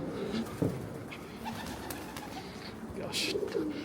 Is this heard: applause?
no